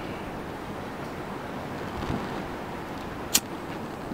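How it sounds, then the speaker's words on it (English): Strong gusts of wind buffet a Canon camera microphone outdoors, producing a steady low rumbling roar throughout with one brief sharp click near the end; no one speaks. "I'm sure you guys can hear the wind in the Canon mic"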